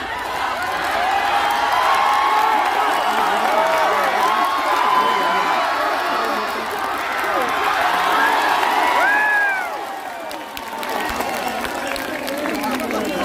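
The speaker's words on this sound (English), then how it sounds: "let us cheer for both the participants." Audience at the Hornbill Festival in Nagaland cheering and applauding for the participants, a dense sustained roar of voices, whoops and clapping that dips briefly near the end before swelling again.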